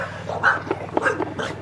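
Dogs bark and yip in a quick, close cluster of short calls, fairly loud and with no talking over them.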